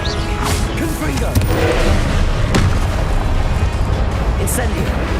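Confringo explosive spell blasts in Hogwarts Legacy, loud booming impacts and crackling bursts layered over continuous game noise, with a voice talking throughout.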